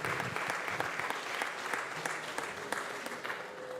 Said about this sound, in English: A great round of applause for them.